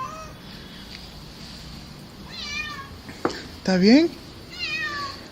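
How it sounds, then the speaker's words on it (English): A cat meows in a cemetery at night, a few drawn-out rising cries, the loudest close by near the end, while a person speaks briefly and the background hums with faint noise. "this cat just comes jumping out."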